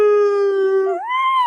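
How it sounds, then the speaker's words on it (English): A single dog howls close by, holding a long steady tone before sliding upward in pitch near the end, with no other voices. "Quincy, give me a woohoo!"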